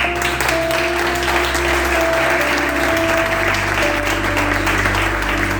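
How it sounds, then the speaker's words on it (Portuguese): A congregation at a Bible study claps in sustained, dense applause that holds steady from start to finish, with a low hum and a faint tone beneath it. "Você pode aplaudir o Espírito Santo?"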